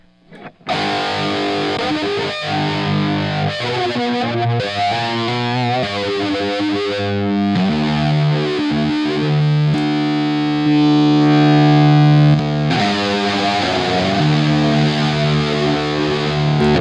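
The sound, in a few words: guitar through new pedalboard effects, wet signal only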